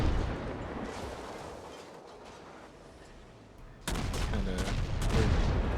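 Naval guns boom and crackle in rapid, rumbling volleys in World of Warships, with the Mahan destroyer on the Strait map. The fire is dense and continuous, and it grows louder toward the end.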